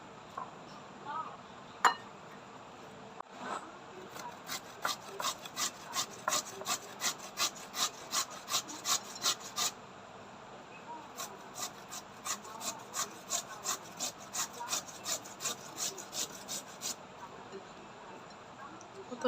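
Peeled potatoes rubbed against a hand grater make rapid, rhythmic rasping strokes in two long bursts of about a dozen scrapes each, close and fairly soft, with a couple of louder knocks before the bursts and no talking.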